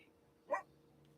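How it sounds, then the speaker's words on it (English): A single short dog bark rings out once, faint and distant, over a quiet indoor hum. "excuse the dogs in the background."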